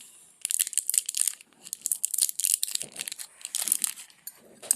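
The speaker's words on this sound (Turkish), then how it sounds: "Bunu makasla keseceğim." Scissors snipping at a crinkly Hello Kitty candy wrapper, producing close, bright crackling and rustling bursts in irregular clusters with brief pauses between.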